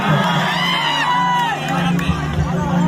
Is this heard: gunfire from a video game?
no